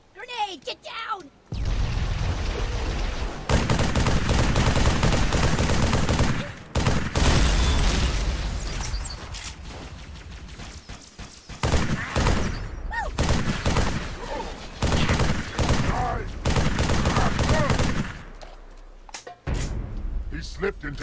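Heavy gunfire in a firefight in the video game Halo 3: ODST, with dense volleys of shots and booms in bursts separated by short gaps, under shouted voices.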